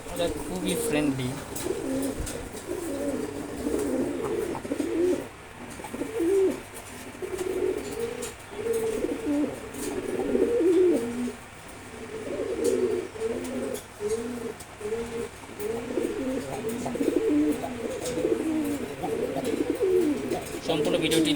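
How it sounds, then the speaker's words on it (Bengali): Fighter pigeons cooing in rapid, repeated low bursts, close and continuous through the stretch with scattered rustling and faint background sounds. "খুবই সুন্দর কবুতর,"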